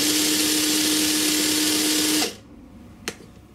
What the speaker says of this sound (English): hold this bit steady and just drill it few seconds like this